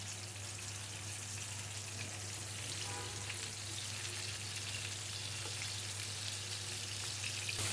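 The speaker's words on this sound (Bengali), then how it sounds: "সাদা তেল দিব, বেশি করেই দিব। নুন হলুদ মাখিয়ে করলাটা ভাজবো।" Bitter gourd slices coated with salt and turmeric fry steadily in a generous amount of white oil over a raised flame, a constant close sizzle with fine crackle and no voices.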